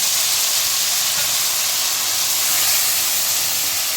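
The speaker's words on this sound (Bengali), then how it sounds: "এবার আমি আমার এই কেটে রাখা আলুগুলো দিয়ে দিলাম।" Cut potatoes sizzle in hot oil with cumin seeds, a dense, steady, loud hiss of frying that holds evenly throughout.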